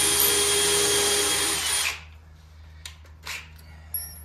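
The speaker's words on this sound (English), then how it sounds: "then you use a kind of small bit to drill a pilot hole" A power drill with a small bit boring a pilot hole into a wooden outdoor dining table leg, a steady loud whine for about two seconds that stops abruptly, followed by faint shop clatter.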